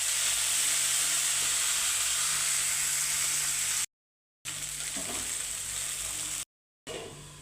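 Chopped dill greens hit hot oil with cumin and garlic in a pan, giving a steady loud sizzle and hiss that continues in long stretches broken by brief gaps.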